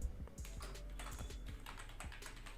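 Rapid clicking of a computer keyboard as a file name is typed, close and steady, a quick burst of keystrokes with no talk.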